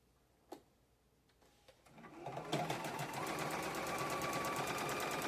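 Sewing machine stitching quilt pieces, starting after a quiet moment with a small click, then running in a fast, even rhythmic whir, close and moderately loud with no talk.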